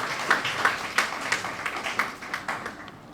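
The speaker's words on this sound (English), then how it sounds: "Let's give us a round of applause." Audience clapping after remarks in a lecture on scientific terminology translation in Twi: distinct, evenly spaced claps in a brisk, regular rhythm, moderately close, with a softer clapping bed underneath.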